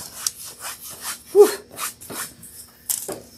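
Sanding of a painted wooden bunny decoration for Easter decor: several short scraping strokes at close range, uneven in rhythm, with brief pauses between passes and no talk.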